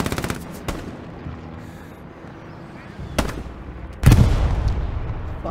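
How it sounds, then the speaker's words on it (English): Bursts of machine gun fire in the video game Hell Let Loose, set at Stalingrad, with a rapid burst at the start and loud, heavy volleys near the middle and end amid battlefield rumble. "Fuck is that machine gun?"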